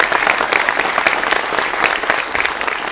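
Audience applause fills the hall at a Maha Kumbh 2025 gathering honoring Swami Avimukteshwaranand, a dense, loud, sustained clapping from many hands throughout.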